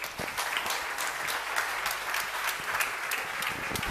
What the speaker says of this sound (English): You've taken the cue from the young leaders and you've started learning to applaud.